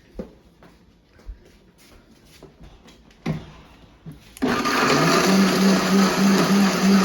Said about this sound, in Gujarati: એ આપણી ઠંડી થઈ ગઈ છે તો હવે એનો મિક્સરમાં પીસી અને તમને બતાવું